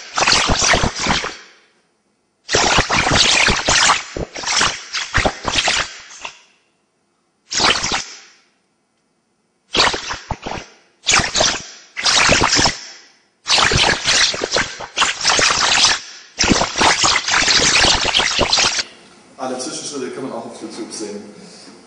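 Speech-like bursts after 1000 passes of repeated audio compression, heavily smeared and garbled by artifacts, in choppy phrases separated by silences, ending in a murky, washed-out tail.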